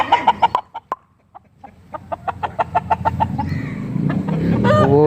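Aseel rooster clucking in a rapid series of sharp, loud calls, then a rising crow building at the end over farmyard background noise.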